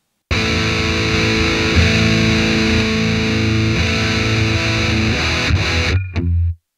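A heavily distorted electric guitar through a Headrush Gigboard, played via a bass amp cabinet simulation with compression, plays sustained, saturated chords, loud and continuous, cutting off abruptly near the end.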